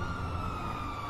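Police car sirens in a bank-heist video game, a steady wailing tone held over a low engine-like rumble, moderately faint and continuous with no speech.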